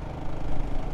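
A Royal Enfield Guerrilla 450 motorcycle engine lugs at low revs, a close, rough, low throbbing drone with uneven pulsing vibration, heard briefly on its own.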